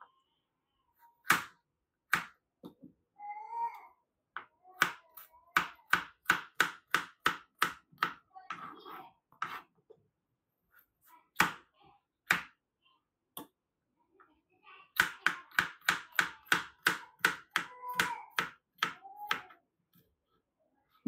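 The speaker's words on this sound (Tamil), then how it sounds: "இந்த கேரட்டை நான் வந்துட்டு இப்போ பொடி பொடியா கட் பண்ணி எடுத்துக்க போறேன்" A knife chops a peeled carrot into small pieces on a board, sharp crisp taps in quick rhythmic bursts with short pauses between runs, close and clear.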